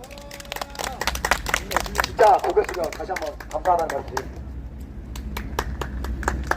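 A small outdoor crowd claps at a press conference at Independence Gate Park by Seodaemun Prison, with sharp rhythmic hand claps early and again near the end while someone speaks over a loudspeaker in between.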